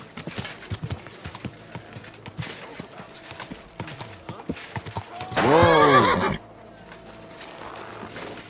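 Horse hooves and neighing in the medieval video game Kingdom Come: Deliverance II, with a steady clip-clop of hooves followed by a loud, close whinny lasting about a second, then quieter hoofbeats and faint voices.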